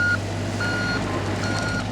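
A mini excavator pushes dirt up into a thick berm for a homestead shooting range, its reversing alarm sounding three steady beeps over a constant low diesel rumble.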